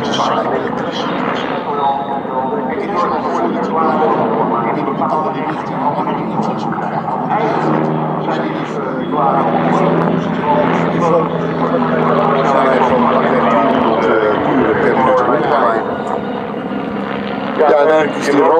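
Bölkow BO-105P helicopter flying at an airshow, a loud steady rotor and turbine roar that holds throughout, with someone talking over it.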